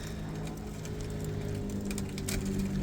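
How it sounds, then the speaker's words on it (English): A bicycle pedal turns while the gears shift, giving a quiet, steady mechanical whir with faint ticking and clicking throughout. "then when we turn the pedal, it should start changing gears."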